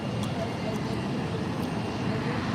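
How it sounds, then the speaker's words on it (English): An airplane engine roars steadily at Monterey airport, a broad, constant wash of jet noise heard from the ground at fairly close range. "You can see the engine sound is much louder now"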